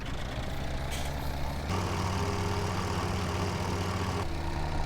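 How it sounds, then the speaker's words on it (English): Tractor engine in a survival roleplay video game starts up and settles into a steady, loud diesel rumble with a low mechanical drone, no voices over it. "So we'll get the tractor started up and we'll head over there."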